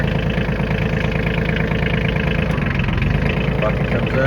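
A Kioti CK27 compact tractor engine idles steadily at close range, a constant low mechanical rumble with even pulsing throughout and no break in level.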